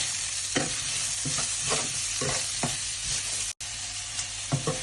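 Onion and green chillies sautéing in a pan after ginger and garlic for a pork curry, with a steady close sizzle and repeated scraping stirs, a brief silent break near the end.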